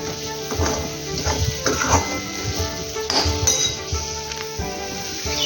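A coarse crushed paste of ginger, garlic, green chili, cumin and coriander is sautéed in a pan for palak paneer. A spoon clinks and scrapes against the metal pan in irregular bursts over a faint sizzle, close up.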